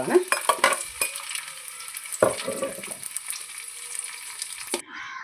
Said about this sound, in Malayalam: നെയ്യിലേക്ക് കിസ്മിസ്